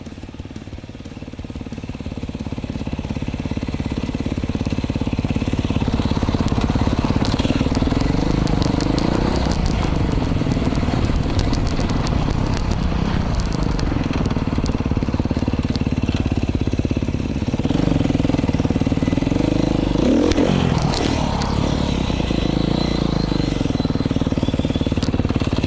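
Beta 500 dirt bike engine running under load while riding off-road near Ridgecrest, a steady loud throttle drone with rising and falling revs and crackle, continuous and close throughout.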